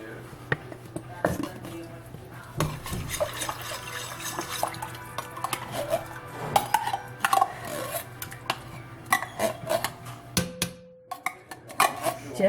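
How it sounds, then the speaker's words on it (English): Canned soup slops from the can into a pot amid wet glugs, drips and metal clanks of can and utensils, close up, with a person talking intermittently. "So we're just going to dump this soup"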